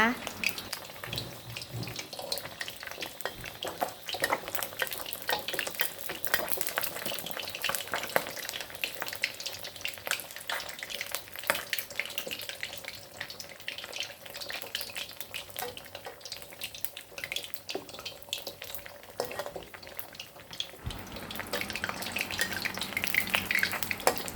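Steady oil sizzle and crackle of snakeskin gourami fish frying in a pan, continuous and fairly loud throughout, with faint kitchen clatter.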